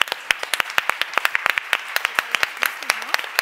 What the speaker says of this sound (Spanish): Katharina merece un gran aplauso por habernos congregado aquí a todas